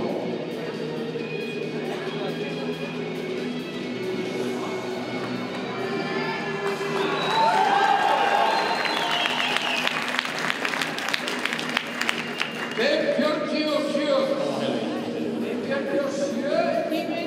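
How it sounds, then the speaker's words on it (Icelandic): Crowd at an Icelandic horse racing event applauds a rider, with scattered clapping and chatter from onlookers, growing denser midway and mixed with a voice talking over the outdoor crowd noise. "Klappa fyrir honum"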